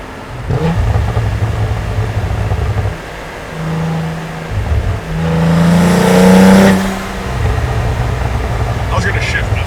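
Cadillac CT4-V Blackwing sports car engine during its break-in period, heard from inside the cabin: a steady exhaust drone rises into a louder revving swell with burbling before settling back to a cruising hum.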